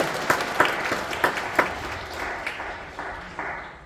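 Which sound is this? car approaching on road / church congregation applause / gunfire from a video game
church congregation applause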